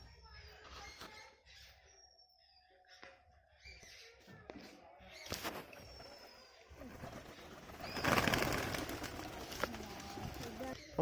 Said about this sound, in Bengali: আমাদের অনেকগুলো পায়রা খাওয়া দাওয়া করছে এখানে।